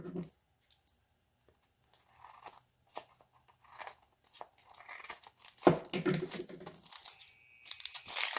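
Scissors snip and crinkle through temporary tattoo paper at close range, with soft scattered cuts and rustling that grow busier toward the end; no talking.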